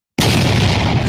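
An explosion sound effect bursts in suddenly after a moment of silence, a loud, dense boom that roars on at full strength for about a second.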